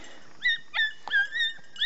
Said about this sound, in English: Little, little tiny barks up there. The squeal is Louie. The real big barks Bo.